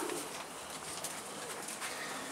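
Pigeon cooing from a large pigeon just caught by hand, a soft, steady call that carries on faintly through the whole short stretch with no talk over it.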